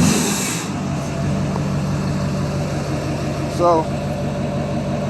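A Duramax diesel truck engine idles with a steady low rumble while someone talks over it, followed by a short, light blip of the throttle near the end.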